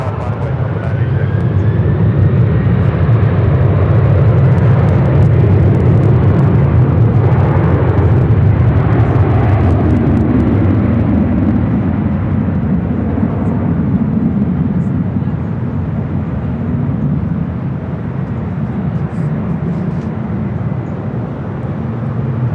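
An airliner bound for JFK rolling down the runway at LAX, a loud, rumbling jet engine roar that builds and sustains, then eases slightly toward the end as it moves off.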